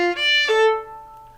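A solo violin plays two slurred notes, bowed with clear, sustained tones close up. The second note swells and rings before fading. No voices.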